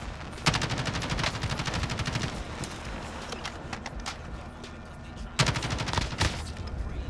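Gunfire in Call of Duty Modern Warfare Plunder: rapid automatic bursts at the start and again near the end, with scattered single shots in between, loud and close over a busy game background.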